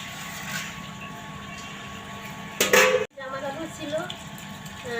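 Kitchen utensils being washed under a running tap, with a steady hiss of flowing water and a short, bright clatter of metal dishes knocking together midway before the water carries on.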